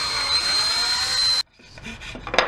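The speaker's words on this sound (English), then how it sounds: "take an even bigger drill bit and ream out the holes that are in this piece" A power drill spins a larger bit to ream out existing holes in a wooden pistol part: a steady, loud, high whine with grinding wood noise for over a second, then it stops abruptly, leaving quieter scraping and handling sounds.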